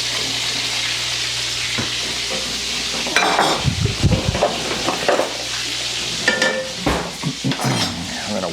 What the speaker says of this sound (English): I'm going to stir that vigorously.